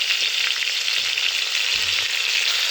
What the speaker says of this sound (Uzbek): Hammasini birgalikda yaxshilab qovurib, keyin tayyor bo'lgan kotletlarni ham ustidan solamiz.